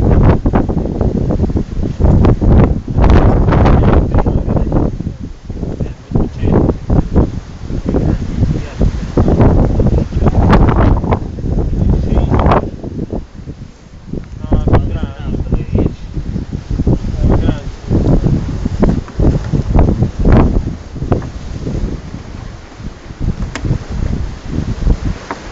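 Strong seaside wind buffets the microphone at a fishing trabucco at Punta San Nicola, gusting loudly and unevenly throughout with rough bursts, while people talk intermittently under the roar.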